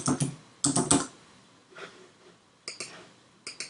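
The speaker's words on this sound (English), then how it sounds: "I'm going to type the word weekend, all in lowercase" Several bursts of keystrokes on a computer keyboard spell out a single lowercase word, clustered clicks near the start, a pause, then two more short runs of typing, close and clear with no talk.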